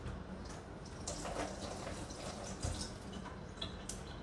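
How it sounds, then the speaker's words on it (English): A melon is rinsed under a running kitchen tap, the water giving a steady, close splashing hiss that holds even throughout with a few brighter spatters. "I'm going to rinse it"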